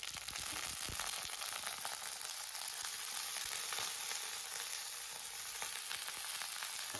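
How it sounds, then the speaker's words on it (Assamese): Onions frying in a pan, a steady close hiss of sizzling oil with small crackles throughout, no voices. "পিঁয়াজখিনি অনিয়নখিনি অকণমান ফ্ৰাই কৰি লৈছোঁ।"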